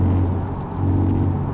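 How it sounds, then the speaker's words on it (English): An Infiniti G35 (V35 Skyline) engine rumbles and whirs as the throttle is stabbed while cruising, a short burst of heavy low drone from inside the car. "Just like cruising along if I stab the throttle."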